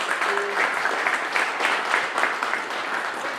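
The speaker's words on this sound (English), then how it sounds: "Round of applause." An audience applauds at a State of the County event after a sponsor is thanked during a prize drawing. The clapping is steady, dense and sustained, filling about three seconds at even loudness.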